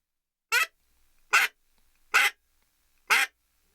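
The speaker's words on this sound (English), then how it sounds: "now demonstrate that quack blowing into the call like you normally would" Four evenly spaced, short nasal quacks blown on a Primos Teal Pak duck call, each crisp and close, separated by clean silence.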